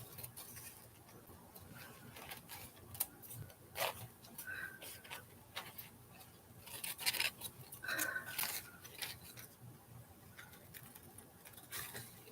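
Scissors cut paper for a craft project in a quiet room, giving faint, scattered snips and rustles that cluster in irregular bursts.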